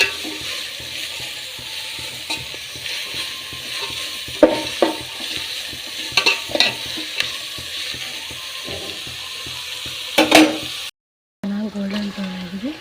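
Chicken curry base with red chilli and coconut stirred and fried in a pan over a high flame: steady sizzling with scattered scraping clicks of a spoon against the pan, briefly cut off near the end before resuming.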